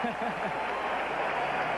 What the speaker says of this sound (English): he's getting a round of applause for doing it